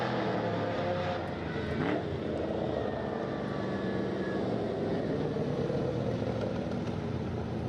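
A convertible Pontiac race car rolls out at Hudson Speedway during a Run What Ya Brung event, its engine a steady, loud, unbroken drone that fills the whole stretch.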